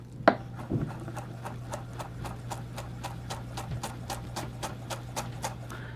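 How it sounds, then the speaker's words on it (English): A knife chops flat-leaf parsley on a cutting board in a steady, even rhythm of sharp taps, close by, after one louder initial knock, over a low hum. "we're gonna start chopping off some flat leaf parsley"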